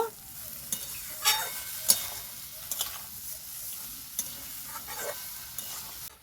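Lightly fried ridge gourd and bitter gourd stir-fried with poppy seed paste in a pan, giving a steady sizzle with repeated spatula scrapes and stirring knocks at close range, no voices.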